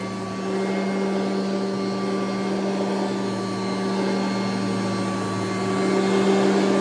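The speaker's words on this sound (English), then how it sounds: "let's see what the 1982 Kirby Heritage 1 sounds like" A 1982 Kirby Heritage 1 upright vacuum cleaner running on carpet, a loud, steady motor whine with a constant hum, close up and uninterrupted, swelling slightly near the end, no voices.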